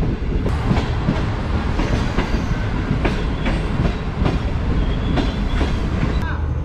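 A Green Line Express passenger train on a run out of Lahore rolls loud and steady on the rails, its wheels clicking rhythmically in a continuous close rumble with faint squeals.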